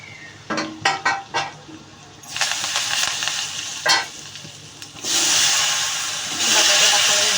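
Vegetables frying with homemade masala, coriander powder, turmeric and garlic in a pan, bursts of loud hissing sizzle between clinks of stirring, close and alone with no talk.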